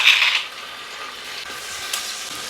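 Crushed ginger and garlic frying in coconut oil with popping mustard seeds, a steady hissing sizzle that swells briefly at the start and then settles into a soft, even crackle.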